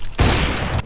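A loud burst of gunfire from the video game CSGO, played on a phone or laptop inside a Chinese restaurant; one dense, sustained volley lasting under a second, with a sharp low thump at its start.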